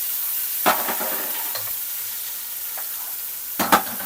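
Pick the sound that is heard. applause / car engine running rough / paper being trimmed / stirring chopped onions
stirring chopped onions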